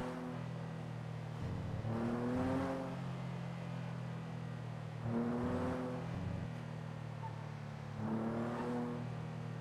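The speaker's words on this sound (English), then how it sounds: "driving a rental. Little rental." A small rental car in a GTA V NoPixel roleplay game drives with a steady engine hum, rising in three revving swells spaced a few seconds apart.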